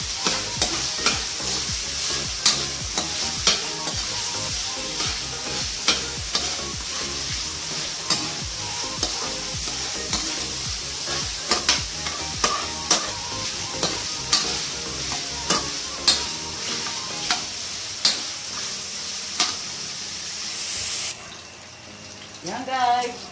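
Pork frying in a pan for dinuguan, a constant sizzle punctuated by regular scraping stirs, close up, before the sizzle drops away near the end.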